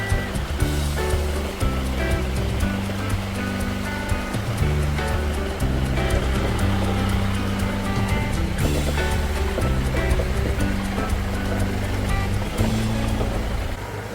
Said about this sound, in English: Those are waterfalls, and we drove over that waterfall.